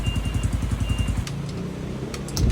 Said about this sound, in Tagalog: Ayan, maandar na yung motor natin dito.